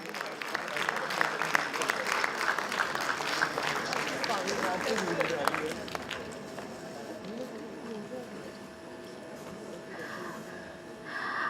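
Applause from an audience at an international conference, a broad clatter of clapping hands that is strongest early, then thins and fades while a voice speaks faintly underneath.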